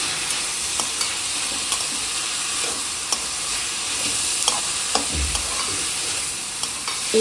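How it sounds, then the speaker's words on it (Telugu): Green chillies and tomatoes fry in a pan for a masala dosa filling, with a steady close sizzle broken by scattered clicks and scrapes of stirring throughout, no voices. "కొంచెం గోల్డ్ కలర్లో వేగేదాకా వేయిద్దాం."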